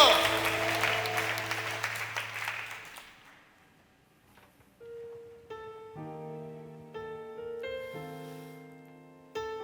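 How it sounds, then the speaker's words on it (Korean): A church congregation at an evening prayer meeting claps, loud at first and fading over a few seconds, then keyboard music takes over with sustained chords. "우리 주에게 다시 한번 박수를 돌리겠습니다"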